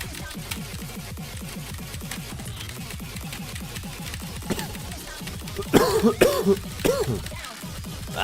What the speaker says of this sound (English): The coughing gets worse, it feels like.